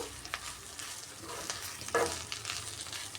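Curry leaves frying in a pan give a quiet, close sizzle, with intermittent stirring scrapes and a few light knocks, and nobody talks.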